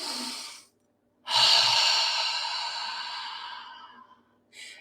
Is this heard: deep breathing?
yes